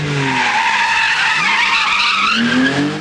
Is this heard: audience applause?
no